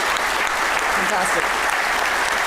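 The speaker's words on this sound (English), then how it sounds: "So round of applause." Applause from an audience at a history festival talk on the Eastern Front, a steady dense wash of clapping that runs the whole moment, with a voice speaking briefly over it.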